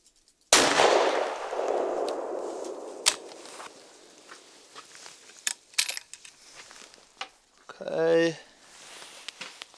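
A rifle shot rings out loud and close outdoors while a thermal scope is being sighted in, its blast decaying over a couple of seconds, followed by scattered clicks, handling noises and a brief voice.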